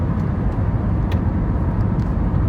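A Honda Element converted to a six-speed gearbox cruises at about 60-65 mph in sixth gear, giving a steady, loud low engine and road drone with no talking.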